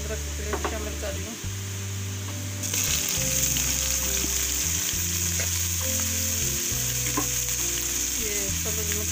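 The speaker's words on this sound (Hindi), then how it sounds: "ये लहसुन अदरक पेस्ट शामिल कर रही हूँ।" Garlic ginger paste fries in hot oil in a kadhai alongside onion, giving a steady, loud sizzle that swells partway through, with faint clatter and a low hum beneath.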